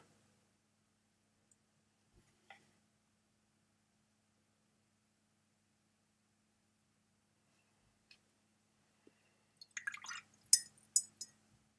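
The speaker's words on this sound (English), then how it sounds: "And quickly rinse the brush." A paintbrush is rinsed in a pot of water after painting a model, with a few faint clinks near the start and a short burst of sloshing and glassy tapping toward the end, otherwise quiet.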